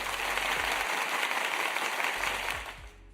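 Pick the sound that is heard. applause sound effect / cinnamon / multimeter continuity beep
applause sound effect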